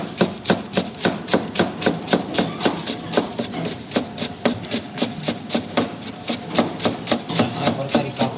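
Spring onion greens chopped finely with a knife on a board, a fast steady run of crisp, close chops, about two to three per second, continuing throughout without talk.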